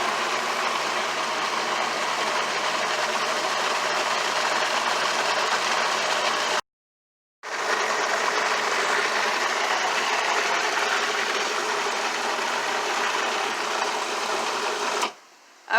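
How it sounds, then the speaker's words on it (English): A food processor whirring as it blends eggplant tapenade with oregano, basil, turmeric and pepper, a loud steady motor drone that cuts out briefly midway, then runs again before stopping. "So I'm going to put the lid on my food processor, and let's let it go"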